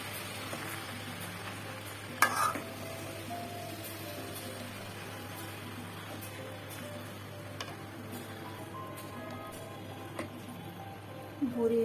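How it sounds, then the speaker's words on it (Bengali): Beef tripe is stirred with spices in a pan, giving a faint, low sizzle over a steady background hum, with occasional soft scrapes and taps. "বুড়ি মশলার সাথে ভালো করে নেড়ে চেড়ে মিশিয়ে দিয়েছি"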